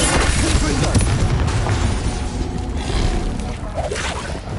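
Repeated Confringo fire-spell blasts in the Hogwarts Legacy video game, dense booming bursts layered over a constant loud din of combat effects and game music.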